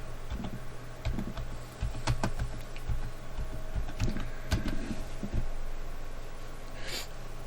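Typing on a computer keyboard while searching for graphics cards online: scattered clusters of close, sharp key clicks and taps with brief pauses between bursts.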